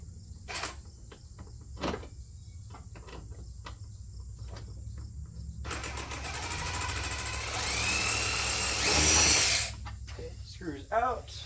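A power screwdriver backs a screw out while swapping the turn signal lens on a 2001 Toyota Solara. It gives a few seconds of close, whirring, rising whine after scattered clicks and handling taps, then a brief clunk.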